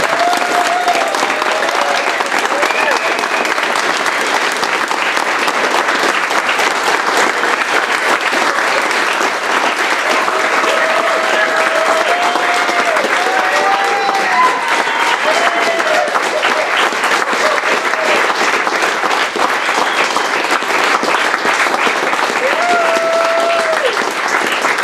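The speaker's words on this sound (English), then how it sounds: "give you one big love back and clap and just show our appreciation in that way" An audience at a farewell support meeting claps steadily and warmly for the whole stretch, a dense, even wash of applause with a few faint voices mixed in.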